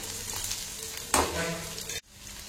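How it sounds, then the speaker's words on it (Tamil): Onions sizzle and fry in hot oil with green chillies and curry leaves while being stirred. A steady crackle runs throughout, a scrape or toss comes midway, and the sound cuts off abruptly near the end. "வெங்காயம் வந்து நல்லா வதங்கி வரட்டும்."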